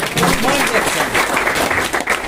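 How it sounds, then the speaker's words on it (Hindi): A short, dense burst of clapping from the audience at a DXN business meeting, loud and close, with a voice faintly audible underneath. "ये मोतीलाल मिश्रा सर जी के लिए जोरदार ताली"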